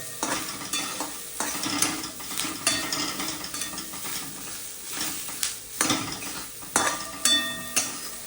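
Soybean chunks sizzle in a frying pan as a utensil stirs them, making repeated metallic scrapes and clatters in an uneven rhythm over a steady frying hiss close to the microphone.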